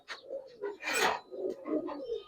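An old-breed Giribaz pigeon in a loft coos in a series of low rolling murmurs with a sharper rasping burst in the middle, close and quiet, with no talking.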